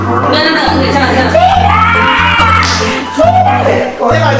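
A cat meows several times in a lively family setting, its calls rising over steady background hum and overlapping voices of children and adults talking nearby.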